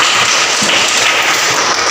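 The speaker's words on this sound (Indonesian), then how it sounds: "Bagus, tepuk tangan." Classroom applause from a group of students: a steady, dense patter of many hands clapping at once, loud and close, with no talking.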